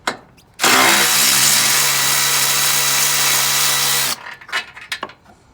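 A power tool spins up sharply and runs at a loud, steady whine for about three and a half seconds, removing 13 mm bolts from a metal bracket on a car's supercharger, then cuts off into clinks and handling noises.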